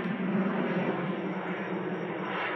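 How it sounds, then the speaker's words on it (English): Jumbo jet flying over a backyard, a steady, distant broadband roar that holds evenly throughout with no talk. "We got a jumbo jet flying over."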